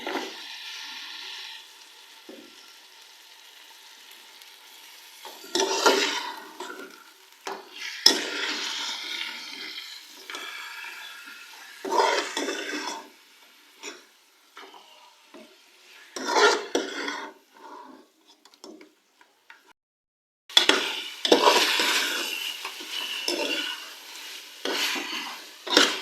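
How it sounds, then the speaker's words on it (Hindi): Half a kilo of mutton fries in a pot, giving a close, loud sizzle in irregular bursts separated by quieter stretches, with stirring and scraping and no talking. "मैंने मटन को जो है तकरीबन 7 से 8 मिनट तक फ्राई कर लिया है।"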